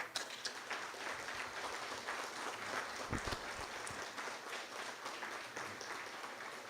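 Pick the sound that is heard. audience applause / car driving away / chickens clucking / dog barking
audience applause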